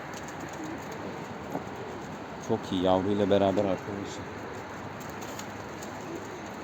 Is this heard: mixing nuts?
no